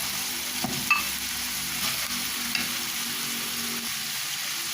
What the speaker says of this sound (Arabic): Après on va laisser cuire notre viande hachée.